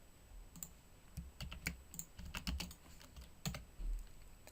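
Command-line text is typed on a computer keyboard in irregular bursts of crisp key clicks, close and quiet, with no talking.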